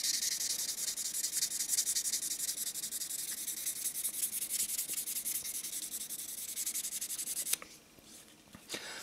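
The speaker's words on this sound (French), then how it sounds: "Allez, c'est parti, on va poncer." Close, steady sanding strokes on a 1/24 Ebbro Citroën DS 19 scale model body, a continuous dry rubbing hiss for most of the stretch that stops abruptly near the end, leaving a couple of faint taps.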